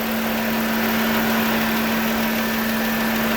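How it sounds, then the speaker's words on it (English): A 2009 Dodge Journey radiator fan runs with a steady, loud whooshing drone and a constant hum, close by and unchanging throughout. "Probably hard to hear me over the fan"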